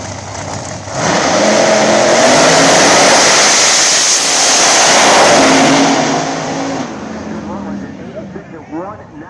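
Pro mod drag race cars, blower and nitrous machines, roll into the staging beams and launch with a roaring surge of engine noise that swells, briefly dips, then fades, while an announcer talks over it.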